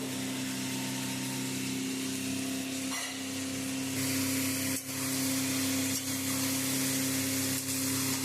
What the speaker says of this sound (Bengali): এবার টমেটোটা দিয়ে দেবো।